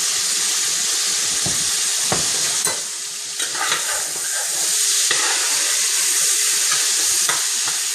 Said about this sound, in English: You want to let your bacon fry until it gets crispy brown